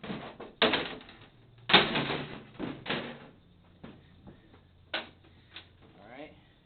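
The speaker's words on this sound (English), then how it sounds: "I'm going to go ahead and remove the guard with a 4mm Allen wrench." Hex bolts on a slip clutch guard being loosened and backed out with a 4mm Allen wrench, giving sharp metallic clicks and taps in irregular bursts, with quieter handling noise between them.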